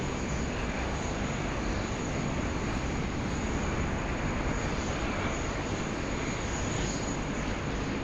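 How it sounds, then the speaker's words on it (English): An airliner on a long takeoff roll at Sydney Airport, heard as a steady, loud, broadband jet roar that holds without letup, with a faint high whine riding over it and no voices. "Long takeoff roll today."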